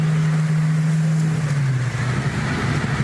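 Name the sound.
car engine revving with aftermarket exhaust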